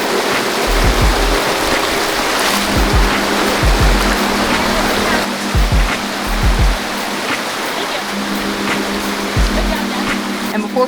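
A mountain river rushes past in a loud, steady wash of flowing water, with occasional low thumps under the continuous roar.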